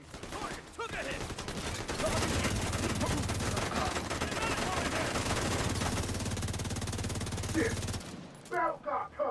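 Sustained, dense automatic gunfire in the shooter game The Division 2, a loud continuous rattle of rapid shots lasting several seconds before cutting off, followed by brief spoken words.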